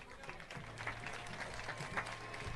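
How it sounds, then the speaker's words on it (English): Steady applause from a graduation ceremony crowd, a continuous patter of many hands clapping at moderate distance, fairly soft throughout. "how about another round of applause"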